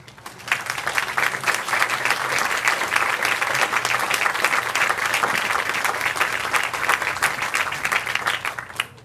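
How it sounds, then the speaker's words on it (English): Sustained applause from a large commencement crowd honoring the class supporters, dense steady clapping that builds quickly and carries on at full strength for several seconds. "So I'd like to begin with a round of special applause for all of those who have given so much to support this class over the past 4 years."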